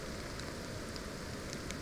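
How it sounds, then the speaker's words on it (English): Steady, faint wash of driving rain with gale-force wind on a salmon river in February, a continuous low hiss with no distinct gusts or voices. "Gale force winds and a driving rain."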